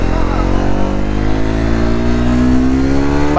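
A Triumph Scrambler 400X motorcycle engine revving loud and close, its pitch climbing steadily as the throttle opens on an off-road ride.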